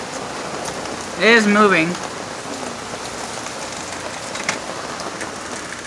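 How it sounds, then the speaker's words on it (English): Steady rain patters on a surface, with a voice briefly speaking over it near the start. "So this is the rain."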